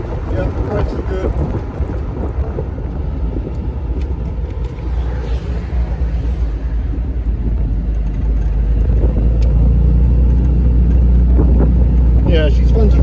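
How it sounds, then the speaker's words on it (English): A 1958 Jaguar XK150S roadster with triple SU carburetors runs steadily with a low, throaty exhaust rumble and heavy wind buffeting, the revs building louder in the second half. "Lovely exhaust note. Engine feels very willing."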